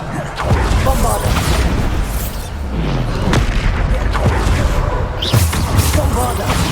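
Bombarda spell blasts go off in Hogwarts Legacy during a trial challenge: loud, booming explosions over a dense rumble, with sharp hits and a voice calling out between them.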